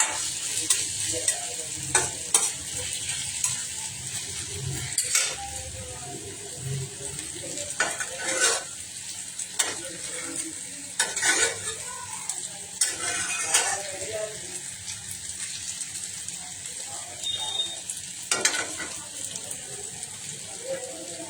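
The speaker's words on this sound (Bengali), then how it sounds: "একটু ভাজা ভাজা হোক।" Capsicum frying in a pan makes a soft, steady sizzle, broken by repeated bursts of stirring and scraping from a utensil at close range, with occasional faint speech in the background.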